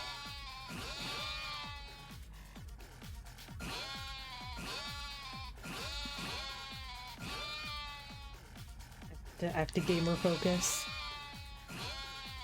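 Repeated sheep bleats in the video game Yakuza 7, in a steady rhythm, evenly spaced, while a person talks over them; a louder, busier burst arrives near the end.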